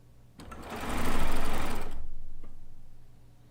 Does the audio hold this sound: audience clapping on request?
no